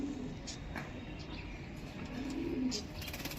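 A pigeon coos softly in a couple of low murmuring phrases over steady background hiss, with faint chirps from other birds scattered around.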